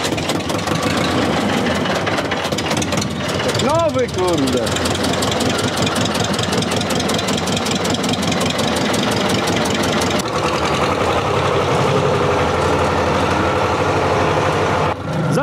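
Small engine of a rotary tiller working a tobacco field, running steadily and loudly throughout with a knocking, chugging exhaust note, while someone talks over it.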